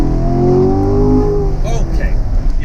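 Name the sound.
car engine accelerating hard, Corvette or BMW M4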